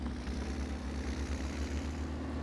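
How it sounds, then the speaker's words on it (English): A tractor in a farming video game drives steadily, its engine giving a continuous low drone with a constant rumble and no talk over it. "I'm going to take this tractor and just park it"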